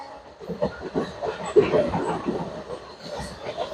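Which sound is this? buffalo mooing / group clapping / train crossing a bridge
train crossing a bridge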